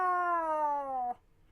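A human voice imitates an upset, sad cat's meow, a single drawn-out, slightly falling wail about a second long that stops abruptly, close and clear.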